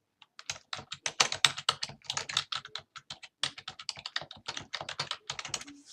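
Rapid, uneven typing on a computer keyboard, close and crisp, with dense runs of key clicks and brief pauses, no voice.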